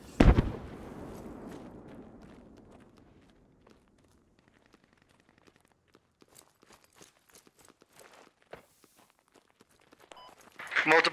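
A rocket blast in the tactical shooter Squad sets off a sharp, loud boom that rumbles away over a few seconds. Scattered footsteps and clatter follow, then another burst of noise near the end, with voices talking in places.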